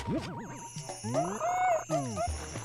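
Animal Crossing game sounds play as bells are dug up at a shiny spot: a quick run of bright, bouncy chimes and jingles, close and clear, with no talking.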